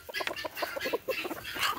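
Buckeye chickens cluck in quick, overlapping bursts while pecking at canned tuna fish, nearby and moderately loud, with no talking.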